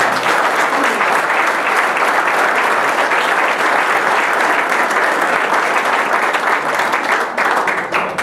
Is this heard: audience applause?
yes